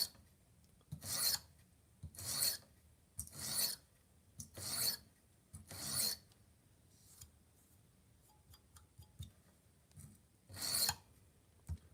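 Repeated rasping strokes of a kitchen knife drawn across a sharpening machine, about seven evenly spaced grinding passes, close but fairly quiet with a faint hum between strokes.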